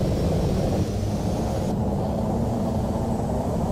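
Three Rolls-Royce Spey turbofans on a Hawker Siddeley Trident 2E, held on brakes in Flight Simulator X, build into a steady, loud, broad roar with a deep rumbling low end and a faint whine riding above, alone with no talk.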